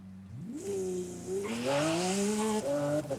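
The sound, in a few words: Lamborghini SVJ launch with tire squeal in Forza Horizon 5 video game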